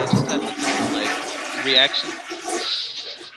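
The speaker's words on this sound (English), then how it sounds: "they're reacting to the fact that I just flushed a toilet." A toilet flushing with a rushing, gurgling swell of water, heard under continuous talking from several people.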